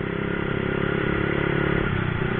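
A Honda C70 motorcycle, a racing-modified bike ridden around Bandung, putters along with a steady, loud, close engine drone and rattling clatter throughout.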